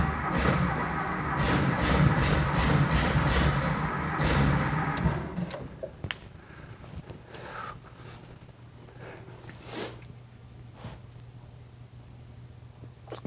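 A long-parked 1973 VW Thing engine cranks repeatedly, a rhythmic churning starter sound for several seconds, then scattered clunks, clicks and brief sputters as it fails to catch.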